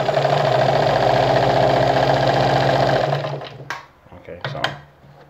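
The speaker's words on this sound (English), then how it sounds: "So I'll do another sewing now." A Vigorelli ZZ/A robot sewing machine stitches fabric in a steady, loud mechanical rhythm for about three seconds, then stops, leaving a few faint handling clicks and light movement.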